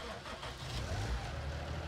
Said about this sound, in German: steigt mal jetzt hier in den Traktor